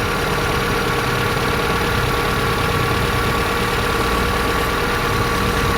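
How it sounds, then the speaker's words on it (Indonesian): A power steering pump hums steadily over an idling Kia Visto (Hyundai Atoz) engine, a constant droning whine layered on the rumble, heard up close. "pompa power steering berdengung ya."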